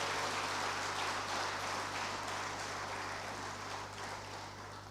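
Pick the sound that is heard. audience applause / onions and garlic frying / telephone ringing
audience applause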